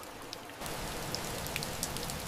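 Rain falling on trees, starting faintly and then turning into a steady, dense patter of drops, with a few brighter individual drips standing out close by.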